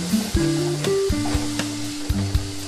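Chopped vegetables and tomato for masala oats sizzle in a pan while a spoon stirs and taps against it, producing several distinct clinks and scrapes over a soft frying hiss, no talking.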